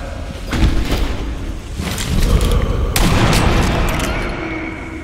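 Gunfire and booming blasts ring out in Sniper Elite 2, several loud sharp reports with heavy low rumble and echoing tails in a continuous, dense battle din.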